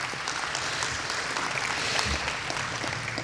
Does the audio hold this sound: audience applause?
yes